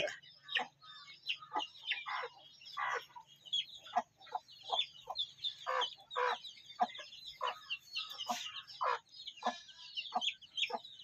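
Busy clucking and chirping of a native country hen and her newly hatched chicks close by, a steady stream of short calls overlapping throughout with brief pauses.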